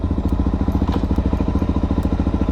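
Loud, close thumping exhaust from a Suzuki DRZ supermoto motorcycle while riding, a fast, even pulsing beat throughout with a faint rustle of wind over it.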